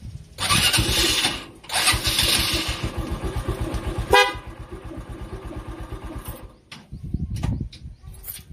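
A small tricycle motorcycle engine cranks and sputters into a rough, throbbing idle, loud and close, with a brief horn-like tone partway through and a pause before revving again.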